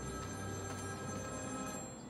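A telephone rings steadily and loudly in Batman: Return to Arkham City, its bell-like tone continuous over a dense game soundscape with a low rumble, no voices.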